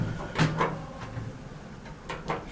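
An Otis HydroFit elevator door at a Holiday Inn in Cody, Wyoming slides shut with a few soft, muffled bumps and a low rumble, heard close and quiet with no talking.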